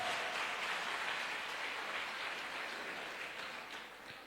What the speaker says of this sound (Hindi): एक जोरदार तालियां होनी चाहिए इन सारे रैंक अचीवर्स के लिए।